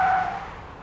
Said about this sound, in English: Now let's put the Audi A8L through its paces here on the slalom